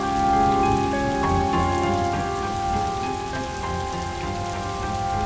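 Steady rain falls on surfaces in a continuous, even wash of drops that fills the scene with no voices over it.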